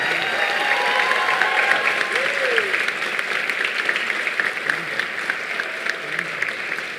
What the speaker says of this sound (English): please give another round of applause to this year's Golden Herald Honorable